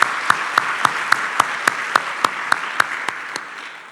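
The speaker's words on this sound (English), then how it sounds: "give my First Lady another round of applause" An audience at a State of the County address applauds steadily, a dense wash of clapping with sharp regular claps from one nearby pair of hands standing out, fading slightly toward the end.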